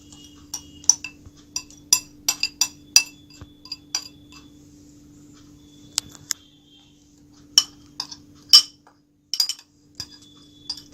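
A metal spoon stirs lemon sharbat premix powder, sugar, citric acid and salt in a glass container, giving scattered sharp clinks and taps in an irregular rhythm, close and fairly quiet, with no talking.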